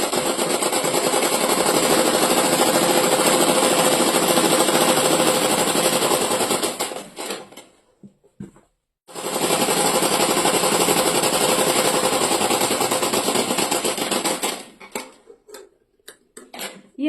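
Sewing machine stitching a straight seam on pajama fabric, a loud, dense, rapid mechanical whir in two long runs split by a brief pause, ending in slower stop-start stitches, close and alone.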